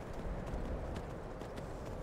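Horse hooves clip-clop in the video game Skyrim in a soft, steady rhythm under low game ambience.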